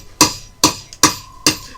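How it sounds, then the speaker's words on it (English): A hammer strikes in the Fire Emblem: Path of Radiance video game: four sharp, loud metallic bangs in a quick, even rhythm, each with a short ringing decay and no talk. "Bang bang goes the hammer."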